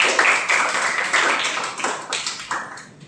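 Classroom audience clapping during a biography lesson, sharp uneven claps arriving in several loose bursts, close and fairly loud, with no talk over them.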